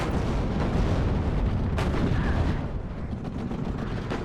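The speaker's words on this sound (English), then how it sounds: "Firing his artillery at me now" Artillery fire in the WARNO real-time strategy game, a dense rumbling barrage with a sharper blast near the middle, loud and continuous without talk.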